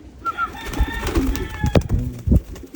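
Pigeons in free flight training coo and stir close by, low throaty calls mixed with wing flaps and rustling in quick bursts, with a voice calling out briefly.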